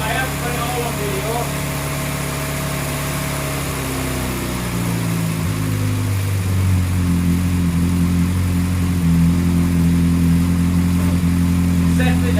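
A Morris Minor car engine idles steadily and close by after a carburettor rebuild, its low droning hum shifting slightly in pitch partway through before settling again.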